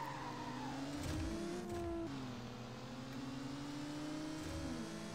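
A race car in the Need for Speed Underground Rivals video game accelerates steadily at the start of a circuit race, its engine whine climbing and shifting through gears, loud and continuous with no talking.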